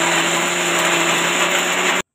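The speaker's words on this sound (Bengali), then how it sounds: "এবার আমি ঢেলে নেবো মিক্সির জারে। তারপর ঠান্ডা হলে বেটে নেব।" An electric mixer grinder blends boiled pointed gourd with green chillies in its jar, a loud steady whirring drone that runs unbroken for about two seconds and then cuts off abruptly.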